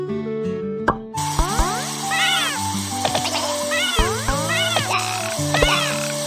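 A cartoon kitten meows repeatedly in bright, rising and falling cries over playful background music, with bouncy cartoon sound effects and no talking.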